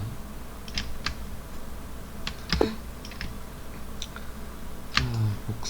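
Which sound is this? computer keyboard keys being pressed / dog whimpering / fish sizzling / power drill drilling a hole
computer keyboard keys being pressed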